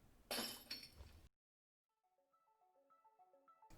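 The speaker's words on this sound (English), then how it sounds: "I drop a teacup to shatter on the floor" A ceramic teacup dropped onto a floor shatters in one loud, sharp crash with a brief tinkling tail, followed by about a second of silence and then faint, soft tonal notes.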